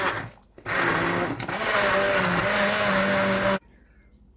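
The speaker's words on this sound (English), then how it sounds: "So we're going to go in with the blender, and then we're going to give it a taste." A stick blender whirs loudly and steadily through parsnip soup for about three seconds, a sustained high-pitched motor hum with no talking, then cuts off abruptly.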